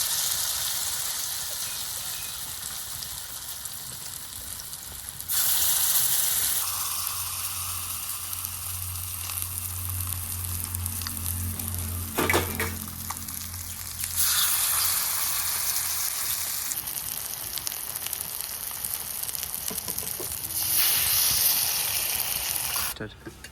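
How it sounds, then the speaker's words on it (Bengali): Whole pumpkin flowers coated in batter frying in oil, giving a continuous hissing sizzle that swells louder at points, with talk heard over it in stretches. "গোটা গোটা ফুল দিয়ে এই যে ব্যাটারটা লাগিয়ে তেলে ছেড়ে দেবো"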